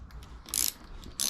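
A wrench works the rear shock bolts on a Royal Enfield Classic 350 motorcycle, giving two short close metallic ratcheting clicks over a low background hum.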